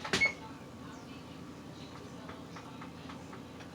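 A single sharp beep from an oven's control panel as it is set to preheat, followed by faint low clicks and quiet room hum.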